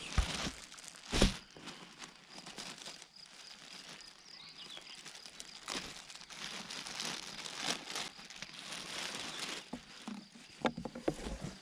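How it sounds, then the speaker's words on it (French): A packaged horse saddle pad being unwrapped, with close, continuous plastic crinkling and rustling in irregular bursts and a few sharper crackles. "Je l'avais gardé emballé exprès pour vous, je le déballe avec vous"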